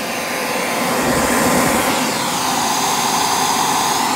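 Panasonic Jet Flo MC-6210 upright vacuum cleaner running with its brush roll switched off, a loud, steady airy motor roar with a slight shift in pitch partway through.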